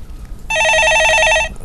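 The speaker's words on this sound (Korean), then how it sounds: "예, 전화 받아보겠습니다." A telephone rings once in a phone-in stock market talk show, a loud close electronic warble lasting about a second, with quiet room tone before and after.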